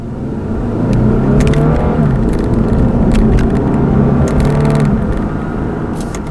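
A 2016 Lexus IS300 F Sport accelerates under paddle shifting, its engine note climbing and easing through gear changes in a smooth rumble from inside the cabin, with faint clicks from the paddles.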